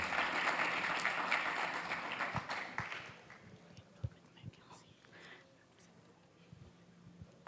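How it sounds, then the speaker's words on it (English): Applause for the panelists at a conference session, a loud crowd clapping that fades after about three seconds into a quiet room with scattered faint sounds. "Please welcome our distinguished panelists with a great round of applause."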